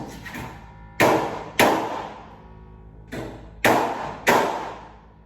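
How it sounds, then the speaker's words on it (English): A small hammer taps a Chevy II floor pan into place with six sharp, close metallic strikes in uneven pairs, each ringing briefly before fading. "little hammer won't help, just tapping it around"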